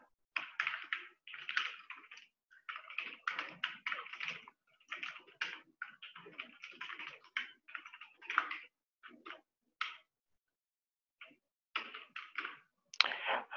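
Quiet keyboard typing on a computer while entering embed code, with bursts of rapid clicking keystrokes separated by short pauses, fairly close and with no talking.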